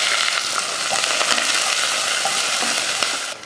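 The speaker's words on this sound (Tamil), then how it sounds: "எண்ணெய் காஞ்சதுமே கொஞ்சம் கடுகு உளுந்து, அடுத்து கொஞ்சம் கருவேப்பிலை, ஒரு பெரிய வெங்காயம்." Steady crackling sizzle of mustard seeds, urad dal, curry leaves and onion frying in hot oil, with occasional sharper pops, continuous and close throughout.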